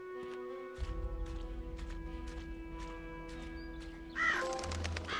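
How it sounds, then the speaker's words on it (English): Crows caw in a video game, several harsh calls spaced out over a droning in-game music bed, ending with one louder, closer caw near the end. "More crows."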